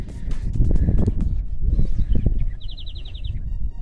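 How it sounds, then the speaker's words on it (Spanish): Small birds chirp and tweet along a desert hiking trail among tree-sized cacti, with a brief run of rapid high repeated notes standing out over rustling, footsteps and outdoor noise. "¿Quién sabe dónde estarán los pajaritos?"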